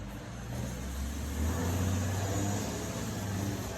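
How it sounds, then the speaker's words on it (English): A garbage truck rumbles past outside, a steady low engine drone that swells in the middle and stays continuous throughout, heard from indoors at a moderate distance with no talking over it. "You guys can hear the garbage truck in the background"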